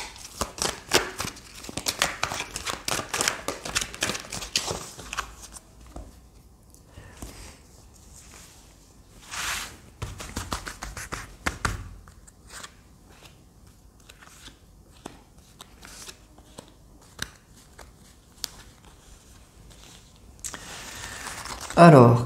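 Tarot cards drawn and handled, crisp papery shuffling, sliding and crinkling rustles in bursts, loudest early on and fading to sparse handling, with a voice talking over parts of it.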